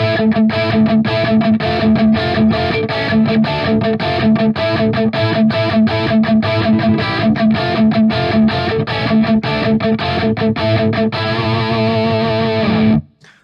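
Heavily distorted electric guitar chugs in a steady rhythm through a loud amp, dense and saturated, ringing out briefly before cutting off at the end.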